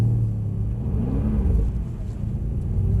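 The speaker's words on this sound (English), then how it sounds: "Try and get wheel spin in a straight line." A Mercedes-Benz car accelerates hard in a straight line while trying for wheel spin, a deep close engine rumble with a brief rising rev in the middle, steady and fairly loud throughout.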